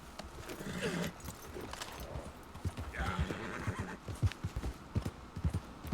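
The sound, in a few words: horse neighing and hooves in video game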